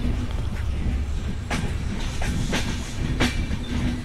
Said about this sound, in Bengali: 2 মিনিট যাত্রা বিরতি দিয়ে আমাদের ট্রেনটি আব্দুলপুর জংশন থেকে ছেড়ে যাচ্ছে